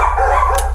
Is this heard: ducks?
no